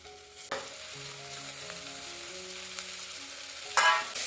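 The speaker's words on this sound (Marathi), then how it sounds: "मेथी व्यवस्थित परतून घ्यायचं सॉफ्ट व्हायचंपर्यंत" Chopped fenugreek leaves and onions sauté in a pan with a soft, steady sizzle, quiet and close, with a sharp clatter of stirring at the start and near the end.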